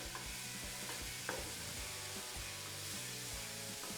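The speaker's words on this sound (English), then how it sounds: "You're going to cook the mushrooms for only about 2 minutes in there." Mushrooms cooking in a hot pan for a cheesy mushroom and spinach pasta, giving a constant close sizzle with soft rhythmic stirring and scraping strokes, no voices over it.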